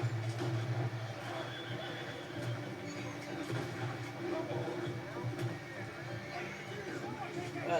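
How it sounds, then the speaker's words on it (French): A dying horse in the video game Red Dead Redemption 2 neighs and whinnies in strained, repeated cries across the whole stretch, heard close under steady voices and game background noise. "Le cheval va mourir."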